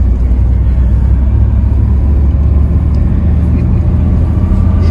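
A car carries passengers along a road toward the Gobustan mud volcanoes in Azerbaijan, its steady, loud engine rumble and road noise running continuously with only faint background voices.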